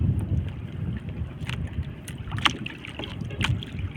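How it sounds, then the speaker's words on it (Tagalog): A canoe paddled hard against wind and sea current, splashing paddle strokes at an uneven rhythm under heavy wind rumble on the microphone. "Paspasan ang bugsay, ang sagwan."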